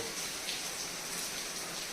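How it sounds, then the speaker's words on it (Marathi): Continuous rain falls at a terrace resort overlooking Amba, a dense, even hiss with no breaks or voices. "पाऊस सतत चालू आहे"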